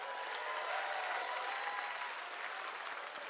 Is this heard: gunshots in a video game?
no